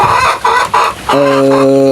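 Merawang chickens cluck in a few short bursts close by, then a rooster breaks into a loud, sustained crow; no one speaks.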